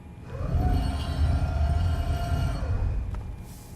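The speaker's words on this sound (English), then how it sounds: "He's opening the vault door." A vault door opens in the video game Fallout 3, a deep rumbling, grinding mechanical sound lasting several seconds with a sustained tonal whine before fading out.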